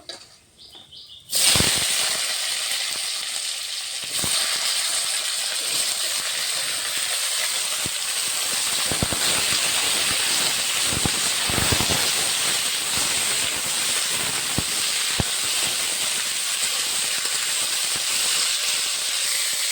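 Chopped vegetables dropped into hot oil tempered with halved dry red chilli and nigella seeds, bursting into a loud, sudden hiss after a quiet start, then a steady close sizzle with scattered pops and no talk.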